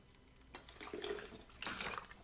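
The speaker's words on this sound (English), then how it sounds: "I'm going to just give it a bit of water right now while we're on the potty." Water is poured onto a small potted tree indoors, a faint, close splashing trickle that comes in two short surges.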